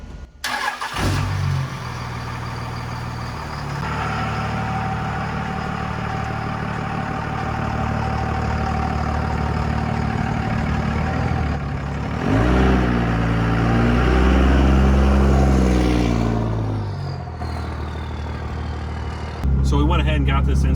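A Cummins diesel truck engine with a newly installed Airdog DF-220-5G fuel pump idles loudly and steadily up close, briefly revving once before settling back to idle.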